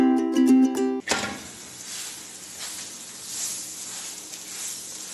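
A paratha sizzles steadily in butter on a hot pan after a short melodic musical sting, the frying hiss soft but continuous, with gentle swells and crackles and no talking.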